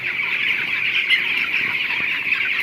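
Young chickens on a poultry farm cluck and peep softly in a steady, busy chorus, heard up close.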